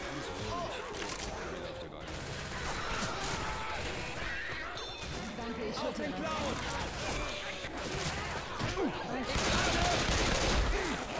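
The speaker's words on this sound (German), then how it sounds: "Jemand hat wohl auf mich geschossen." Gunfire in the zombie shooter game Left 4 Dead 2, scattered shots and bursts with crashes and clatter amid chaotic game noise, while players talk over it.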